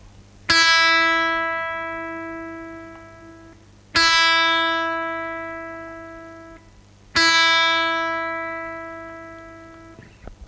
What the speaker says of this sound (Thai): ก่อนอื่นมาตั้งสายกันก่อนนะครับ